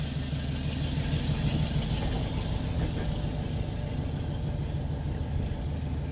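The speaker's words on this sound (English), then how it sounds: "you just got to nurse the idle for a little while until they get warmed up" A 1969 Porsche 912 on Dellorto carburetors idles while still cold, a close, steady low rumble with slight unevenness in its beat and no talking over it.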